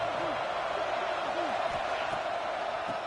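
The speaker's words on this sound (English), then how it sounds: "here comes the noise. This crowd is trying to inspire this defense to make a big red zone stop" Stadium crowd roar in the College Football 26 video game during a Baylor at BYU red zone stand, a steady, loud wash of noise filling the clip from start to finish.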